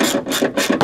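A 10 mm ratchet loosens a bolt on a Jeep Cherokee rear hatch, giving a close, loud run of rapid pawl clicks in quick bursts with no talk.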